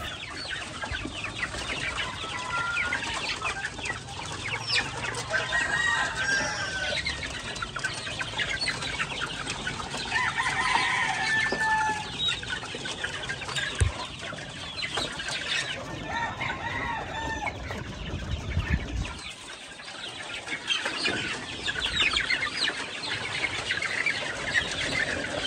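Chickens cluck and a rooster crows steadily on a poultry farm where nearly 300 chicks are kept in cardboard boxes, a busy, continuous flock chatter throughout.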